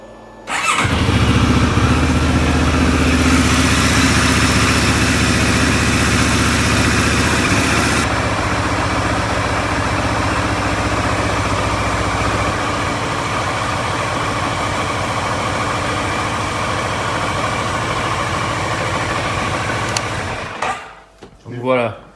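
A Moto Morini X-Cape motorcycle engine idles steadily while warming up, a loud, continuous low rumble that holds for about twenty seconds before cutting off near the end.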